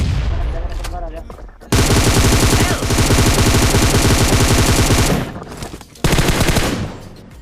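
Long bursts of rapid automatic gunfire in a mobile battle royale game on a Samsung phone, loud and close, with a short gap before another sustained burst.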